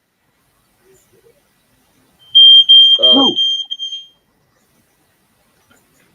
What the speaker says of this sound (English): That's a fire alarm or a smoke detector